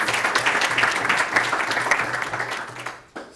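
Audience applause after a talk on neural networks, a steady wash of clapping for about three seconds that fades out abruptly near the end.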